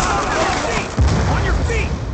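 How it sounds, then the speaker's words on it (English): In Black Ops II, a Hellstorm missile strike lands with a heavy, booming explosion about halfway through, its deep thud cutting through dense game noise and scattered gunfire, with game voices heard. "Hellstorm missile inbound"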